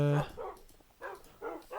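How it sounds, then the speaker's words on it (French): Tamed dogs in Minecraft let out a loud, close bark and then two more barks spaced about half a second apart, with game noise between them. "J'ai un peu trop de chiens, je crois."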